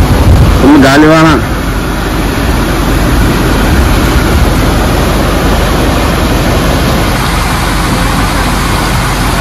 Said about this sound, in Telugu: గాలివాన.